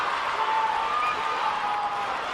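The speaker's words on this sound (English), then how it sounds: "Crowd making some noise now." Crowd at a 7-a-side Paralympic football match between the Netherlands and Argentina at London 2012, a steady, even roar of many voices, with a faint whistle-like tone drifting through the wash of noise.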